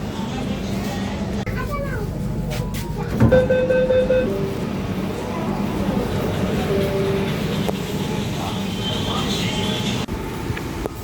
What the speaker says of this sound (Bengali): সঙ্গে এই মেট্রো চলে এসছে, আর দাঁড়াতে হলো না।